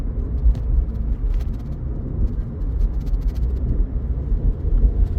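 Low, steady road rumble and engine drone from inside a Scion xD as it drives through a corner, continuous and fairly loud with faint ticks above.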